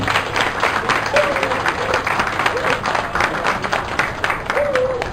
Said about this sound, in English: let's give yourselves a round of applause for making this happen